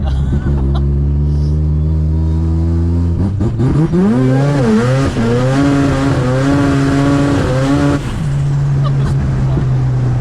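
A Mazda 1300 coupe fitted with a 13B rotary turbo engine idles loudly nearby, then revs hard and pulls up through the gears in rising, wavering surges before settling back to a steady drone.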